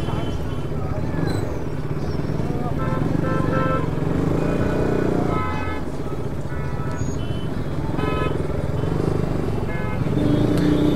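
Heavy traffic fills a crowded main intersection: motorcycles, cars and trucks rumble and rev nearby, with horns, reversing beeps and crowd babble, and voices talking over the steady din.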